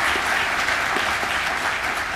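Dense, steady applause from a large audience at a bowling convention annual meeting, continuous clapping that fills the room throughout.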